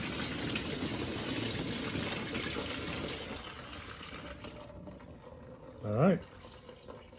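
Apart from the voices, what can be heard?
antifreeze draining from 1998 Toyota 4Runner radiator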